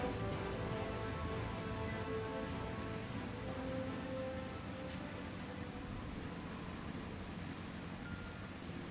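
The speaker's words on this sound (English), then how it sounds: "it's been raining non-stop" Steady, faint rain hisses and patters in the Final Fantasy 14 video game, an even wash of drops that continues unbroken for nine seconds with no voices.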